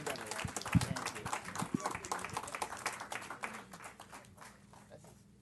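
Round of applause in a city council chamber marking a retirement, a burst of hand clapping that peaks early and then thins out, fading over several seconds.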